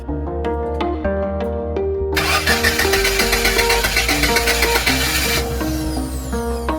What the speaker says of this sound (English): at least the starter was working